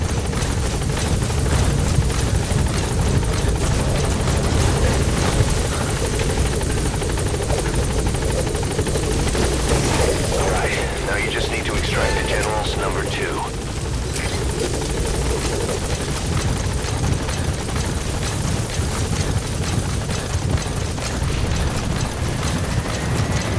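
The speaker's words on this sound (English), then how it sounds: "Support helicopter has arrived." A support helicopter in Metal Gear Solid V arrives at the landing zone as a loud, continuous rotor roar and whine that fills the whole stretch without letup. No one speaks.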